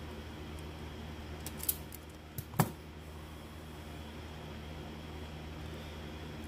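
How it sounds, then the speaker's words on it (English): Excess wire is snipped off while an ice-hole power kit is wired up, a few quiet, sharp cutting clicks in quick succession over a faint steady background hum. "I'm gonna go ahead and trim the excess."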